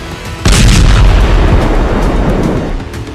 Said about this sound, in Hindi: और फिर कुछ सेकंड बाद हुआ दूसरा धमाका।